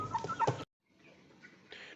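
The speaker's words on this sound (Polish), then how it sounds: "tutaj sobie chodzą kury i koguty" Hens and roosters wander a backyard coop, giving a few close, fairly loud clucks and short calls in the first half second, then a gap before softer, more distant clucking and rustling resumes.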